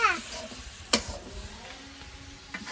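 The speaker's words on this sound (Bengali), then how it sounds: "হলুদ লবণ বাটা মশলা ধনে জিরে সব দিয়ে দেবো। দিব মশলা কষানোর জন্য।" Turmeric, salt, ground spice paste, coriander, cumin, cardamom, cinnamon and cloves sauté in oil in a pan for a Bengali beef curry with new potatoes, giving a faint steady sizzle broken by a sharp clink of stirring.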